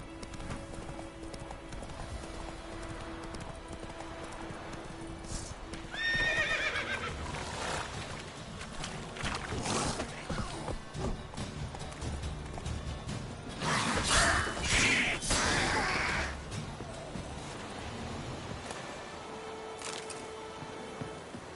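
Roach the horse from The Witcher 3 gallops with steady clip-clop hoofbeats and lets out two bright whinnies partway through, set among game ambience and mechanical clanks.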